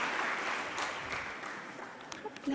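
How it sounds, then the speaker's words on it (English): Applause from an audience at a data journalism awards ceremony, a steady wash of clapping that fades through the short stretch and carries a few fainter voices near the end. "A round of applause for them, please."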